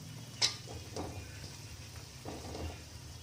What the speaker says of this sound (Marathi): तोपर्यंत आपण यांना परतून घ्यायचं आहे।